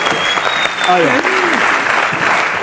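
Studio audience applauding Akshay and Nimrat on a TV show, steady, close, dense clapping filling the whole stretch, with a brief voice and musical tones rising over it midway.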